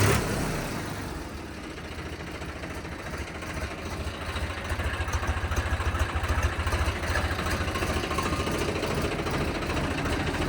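A Swaraj 744 tractor at a tractor market in Patiala idles with a steady, low, rhythmic diesel thrum that grows stronger and more pulsing after the first few seconds, close by and with no talking.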